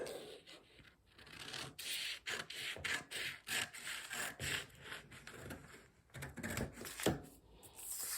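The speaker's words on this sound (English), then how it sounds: "And you cut the neckline area." Scissors cut fabric along the neckline of a sleeveless dress, producing a quick, uneven run of close, soft snips and rasping slides through the cloth.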